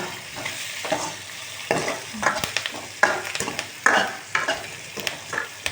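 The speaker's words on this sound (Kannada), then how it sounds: "ಇದನ್ನು ಸ್ವಲ್ಪ ಬ್ರೌನ್ ಕಲರ್ ತನಕ ರೋಸ್ಟ್ ಮಾಡ್ಕೊಳ್ಳೋಣ" Onion, green chili and curry leaves roasting in a pan with a spatula, irregular scraping stirs and bursts of sizzling frying close up, no talk over it.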